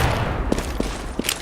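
A few sharp gunshots ring out in Counter-Strike, spaced irregularly over a dense, noisy game background, fairly loud and close.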